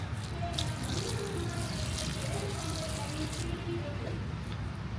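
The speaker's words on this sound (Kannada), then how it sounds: "ಇದಕ್ಕೆ 2ನೇ ಜಗ್ ನೀರು ಹಾಕ್ತಾಯಿದ್ದೀವಿ." A jug of water pours steadily onto mulched soil in a terrace-garden pot, a continuous splashing stream for several seconds, close by, with a soft trickle and gurgle underneath.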